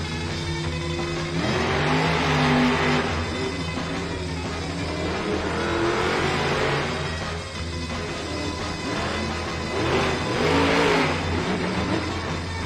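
The El Toro Loco monster truck engine revs in a Las Vegas arena, with loud, roaring surges rising and falling about three times over a steady rumble and crowd noise.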